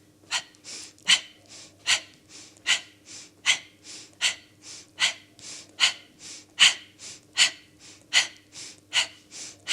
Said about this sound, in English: So the inhale is there, the exhale is more present.